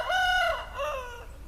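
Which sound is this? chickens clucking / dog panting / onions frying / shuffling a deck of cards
chickens clucking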